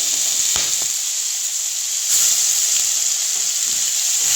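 Onion paste sizzling in hot oil in a wok with whole garam masala, for prawn malai curry; a steady loud frying hiss with a few stirring scrapes and a brief surge partway through.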